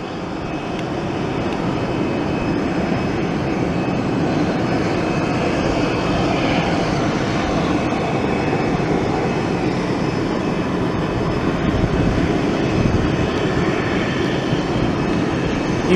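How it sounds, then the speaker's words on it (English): A United airliner takes off near 200 miles an hour, a loud, continuous broadband jet roar that stays steady and close, unbroken throughout with no voices. "United, reaching near 200 miles an hour, gets off the ground, rotates, puts gear away, and heads off to its destination."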